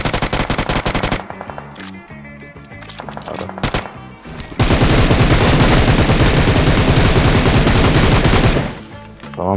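Rapid automatic gunfire from a PUBG Mobile match rattles in loud sustained bursts, with a long continuous stretch of shots in the middle.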